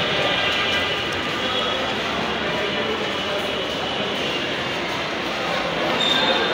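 Busy ambience at Mirpur 10 metro station, with a steady broadband roar of rail and crowd noise and a constant murmur of voices throughout.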